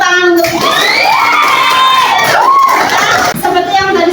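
Schoolchildren in a classroom cheer and shout loudly after a teacher's call for applause, a dense, boisterous burst of excited young voices and whoops lasting a few seconds.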